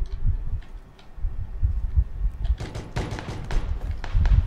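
Bursts of gunfire from a PUBG match crackle in short volleys, with sharp distant shots clustered in the middle and late part alongside low rumbling game noise and no talk.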